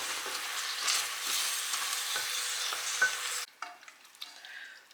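Rhubarb chunks cut into 2 cm pieces go into a simmering chutney and get stirred, a bubbling sizzle with soft scraping strokes that drops away abruptly near the end, leaving faint clinks.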